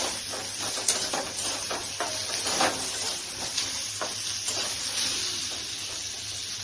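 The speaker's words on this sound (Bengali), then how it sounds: "পটলগুলোকে একটু ফ্রাই করে নিলাম।" Pointed gourd (potol) pieces fry in hot oil, giving a soft continuous sizzle and hiss with faint stirring clatters, steady at moderate loudness and without talking.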